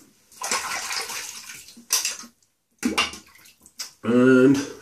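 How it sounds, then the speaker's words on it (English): Wet, squelching bursts of a brush working freshly made shaving soap into a lather, close up, in several separate strokes with short pauses between them. "I'll lather it up now."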